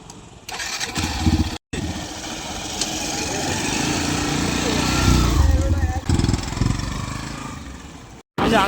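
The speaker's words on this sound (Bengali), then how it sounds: "বন্ধুরা আমরা কিন্তু বেরিয়ে পড়েছি বাইক নিয়ে।" A motorcycle ride: a steady, close engine drone with road and wind rumble runs throughout, broken by two short gaps, and voices can be heard faintly underneath.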